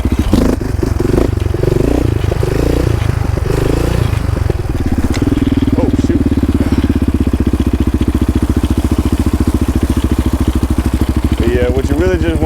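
A quad ATV engine runs loud and close throughout, a rough throbbing idle that revs up and down with throttle blips during a wheelie attempt, its low rhythmic pulsing steady under faint talk.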